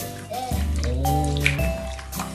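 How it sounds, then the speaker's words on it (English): A three-year-old child washes a toy with water, with close splashing and trickling sounds, a couple of squeaky knocks, and a voice chattering under the water. "I'm gonna wash it"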